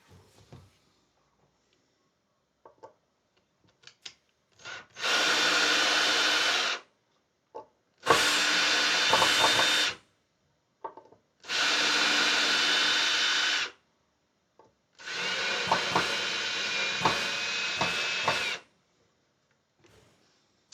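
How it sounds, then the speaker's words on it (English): A power screwdriver or drill backs out screws from the body of a custom-built guitar in a luthier's workshop, running in four sustained bursts of a few seconds each, with brief gaps and small handling knocks between them. "let's unscrew these screws"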